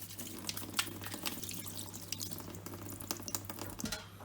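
A washing machine filter being scrubbed by hand in hot soapy water in a sink, with soft splashing, trickling and dripping, fairly quiet and close, without talk.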